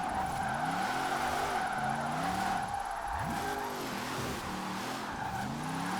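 Hot Wheels Bone Shaker on race tires drifting in Forza Horizon 4, its engine revving up and down in sweeping harmonic arcs over a steady bright tire squeal, loud and continuous throughout with no talking.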